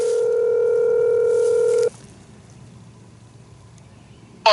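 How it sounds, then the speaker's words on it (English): A phone rings inside a truck: a steady electronic tone with clear harmonics sounds for about two seconds, then cuts off, leaving quiet cab hiss before a sharp sound at the end. "and my phone rings."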